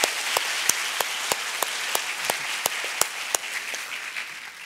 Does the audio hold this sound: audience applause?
yes